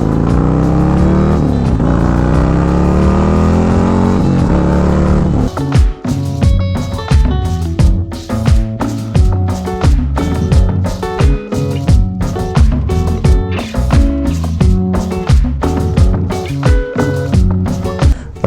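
A Harley-Davidson performance bagger with a 475 cam by SNS and sticky tires revs with rising engine pitch, then keeps a loud, pulsing, rhythmic growl while it is ridden.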